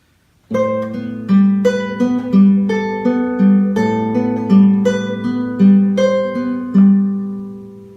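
A guitar plays the triplet passage of Romance d'Amour, steady arpeggiated notes ringing over sustained bass tones in an even rolling rhythm, clear and close with no talking.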